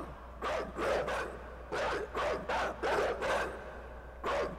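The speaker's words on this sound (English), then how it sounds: "Those dogs could absolutely get through if they wanted to." Dogs in the game Inside bark in a steady series of rough, loud barks, some coming in quick pairs, over a low rumbling background.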